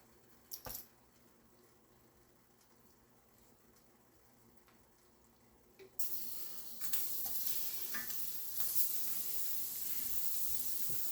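Sliced onions drop into a pan of turkey wing gravy, setting off a sudden, steady bright sizzle that swells and continues after a quiet start with a few faint clinks.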